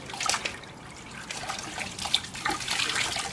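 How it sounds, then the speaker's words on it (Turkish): Lukewarm water poured and trickling while a cow is washed before milking after calving, a soft, close splashing dribble with small irregular spurts. "ılık bir suyla önce yıkamam gerekiyor."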